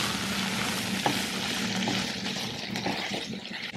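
Prawns and fish frying together in a pan, producing a dense, even sizzle with a few light utensil knocks, close and moderately loud over its short span.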